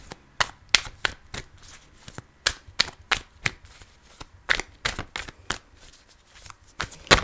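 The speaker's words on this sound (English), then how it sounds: "let's just pull some cards" Tarot cards shuffled by hand in quick, irregular bursts of crisp riffling slaps, close and clear, with no talk.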